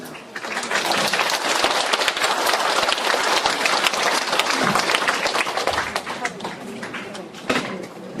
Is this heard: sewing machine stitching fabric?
no